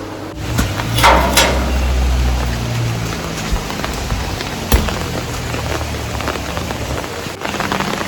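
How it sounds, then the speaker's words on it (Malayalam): Heavy April rain pouring steadily as a dense, loud hiss on surfaces, with a few sharp drip or knock sounds and a low rumble early on. "നല്ല മഴയുണ്ട്."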